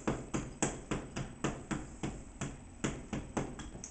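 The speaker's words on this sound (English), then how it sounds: "I'm just going to grind them up with my mortar and pestle" Vitamin C capsules being crushed with a mortar and pestle, heard as about fourteen sharp, close knocks in a steady, quick rhythm with no talking.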